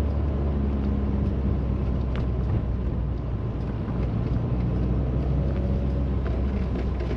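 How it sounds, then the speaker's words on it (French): A 1986 Citroën BX Sport engine drones steadily from inside the moving car, a constant low rumble with faint crackling pops from exhaust backfire scattered through it. "Il y a un retour de pétarade là dans le pot d'échappement"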